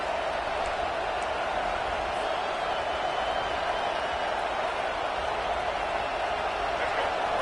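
Stadium crowd noise in an NCAA 25 college football video game swells into a steady, dense roar of cheering on a third-down defensive stand, continuous and loud throughout.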